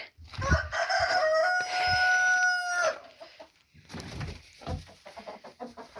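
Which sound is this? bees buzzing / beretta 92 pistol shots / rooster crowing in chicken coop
rooster crowing in chicken coop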